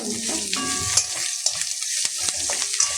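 Garlic and green chillies fry in a pan, a steady bright sizzle with scattered spatula scrapes and clicks close by, no talk.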